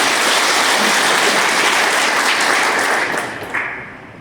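Loud, dense clapping from attendees welcoming guests at a police-backed town and village protection committee conference, holding steady before tapering off near the end with a brief final burst.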